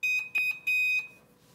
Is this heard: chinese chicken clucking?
no